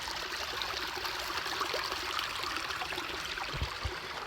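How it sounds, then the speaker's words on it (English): Water in a creek flows steadily, a soft continuous trickle and babble heard close by, with a couple of low thumps near the end. "Creek's flowing good today"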